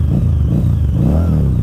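A 2014 Harley-Davidson V-Rod motorcycle engine revs steadily up close, a low throbbing rumble that swells slightly in pitch, with no talking.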